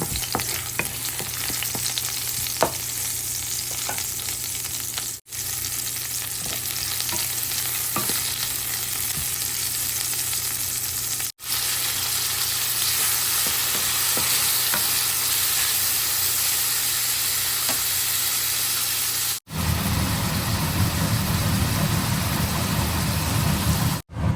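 Vegetables and ingredients for a mung bean dish with pork bones are sautéed in a pan, a loud continuous sizzle with occasional stirring scrapes, briefly cut by short gaps, and a deeper rushing tone near the end.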